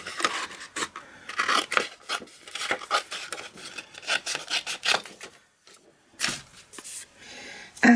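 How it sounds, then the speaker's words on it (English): Scissors fussy cut stamped paper ribbon close up, a series of irregular crisp snipping and rustling strokes with brief pauses between them. "And then I'm going to fussy cut it."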